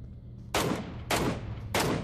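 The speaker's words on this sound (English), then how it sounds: "MK14, one of my favorite guns now." An MK14 rifle fires in a battle royale video game: three loud, sharp shots spaced about half a second apart, each with a short ringing tail, and no talk.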